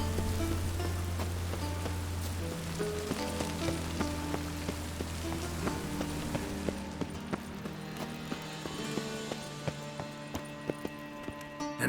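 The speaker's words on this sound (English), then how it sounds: "I like rain. Keeps the rogues indoors." Steady rainfall in The Witcher 3, a soft even patter on surfaces with scattered drips and light knocks, quiet and continuous, with a low hum fading out midway.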